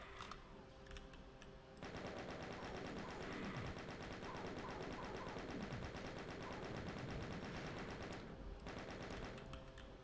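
Gunfire in Doom 2 during play on a custom map, dense rapid shots forming a loud continuous barrage with a game soundtrack underneath, starting abruptly after a quieter opening and stopping near the end.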